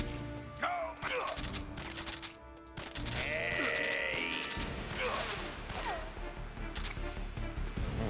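Stun grenades going off in Metal Gear Solid 3, heard as sharp bursts and crashes mixed with game effects and a rising whistling tone, loud and busy against background game sound.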